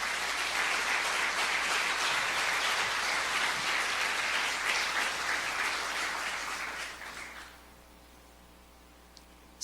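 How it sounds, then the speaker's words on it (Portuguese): A church congregation applauds steadily and loudly for several seconds before the clapping fades away into near silence. "Vamos aplaudir ao Senhor Jesus pela escola bíblica?"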